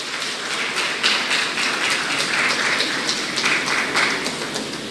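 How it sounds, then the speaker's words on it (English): A graduation audience applauds, a dense, steady patter of many hands clapping at once that rises a little midway and carries on evenly without voices. "give them a giant round of applause"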